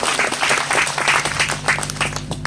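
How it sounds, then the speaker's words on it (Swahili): Applause from a church congregation at a parents' visitation event: many hands clapping steadily in a dense, continuous patter, with no voices over it. "Makofi mazuri kwa Yesu."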